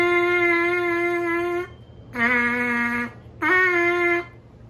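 Lips buzzing into a trumpet mouthpiece, alone, in three sustained tones: a long steady one, then two shorter ones, the last bending upward at its start. Each tone is loud, close and harmonically rich, with brief silences between.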